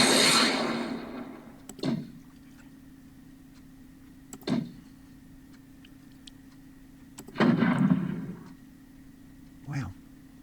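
Artillery fire in the WDS Panzer Campaigns Moscow 42 wargame, heard as four separate muffled blasts spaced a few seconds apart over a low steady hum, with one heavier, longer rumble near the middle.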